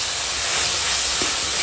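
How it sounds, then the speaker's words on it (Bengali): Tomatoes frying in a pan with turmeric and salt give a steady, dense sizzling hiss that stays constant and fairly loud throughout, with no voices. "এখন টমেটোটা গলে যাওয়া পর্যন্ত ভাজবো।"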